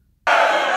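A large rally crowd in Congo bursts into a loud, unified shout in reply after a moment of silence, the roar sustained and close.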